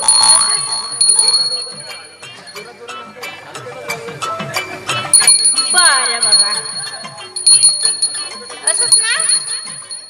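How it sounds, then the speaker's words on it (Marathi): A hand bell rings repeatedly in bright, shaking bursts, close and loud, mixed with voices talking over it. "तू हा घंटा जेव्हा जेव्हा जाग येईल ना तेव्हा तेव्हा हलवत जा"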